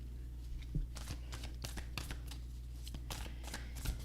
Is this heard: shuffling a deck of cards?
yes